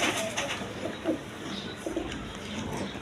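A black male Raj Golla pigeon gives a close, low, throaty coo, repeated in short murmuring bursts against a busy background hiss.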